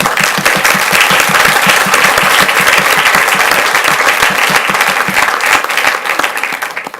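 A school board meeting audience gives a loud, dense round of applause that holds steady for about seven seconds before starting to thin out at the end.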